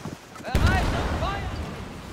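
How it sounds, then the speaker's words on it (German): A ship's mortar fires in the pirate naval game Skull and Bones, a deep booming blast followed by a rumbling tail with whistling tones, with someone talking around it. "Müsste halt vor mich schießen. Mit dem Mörser."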